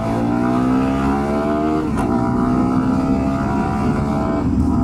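A CFMoto CFLite NK250 motorcycle engine drones steadily and loudly while being ridden close up, its pitch shifting slightly as it revs, with no talking.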